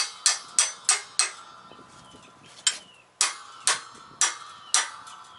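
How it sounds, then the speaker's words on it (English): Sharp metallic hammer strikes ring out one after another, hammering out a control arm bushing on a MK4 Volkswagen Jetta or Golf, close and loud, in irregular bursts with a brief quiet gap midway. "Hammer. It's going to be a little noisy."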